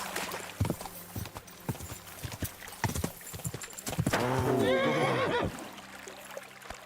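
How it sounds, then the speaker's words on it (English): Horse hooves clip-clop in a steady, uneven rhythm in the video game Kingdom Come: Deliverance II, then the horse gives a loud, drawn-out neigh before the hoofbeats fade. "Good horse."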